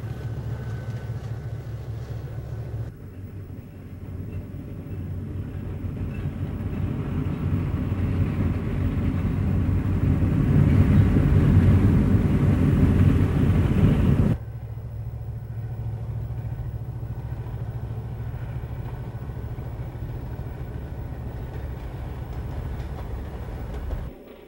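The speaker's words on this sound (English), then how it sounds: "Here the train crosses the Chicago River on its run to St. Louis." A GM&O passenger train crosses the Chicago River bound for St. Louis, giving a steady low rumble that swells louder through the middle and then drops back to a quieter, even drone.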